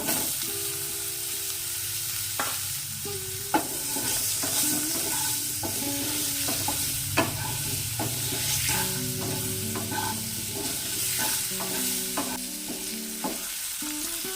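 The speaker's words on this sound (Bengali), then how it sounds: "ভাজা তেলেই কেটে রাখা আলুগুলো দিয়ে দেব" Cut potatoes fry and sizzle in oil left over from frying singhi fish, with steady crackling throughout and occasional clinks of a stirring utensil against the pan.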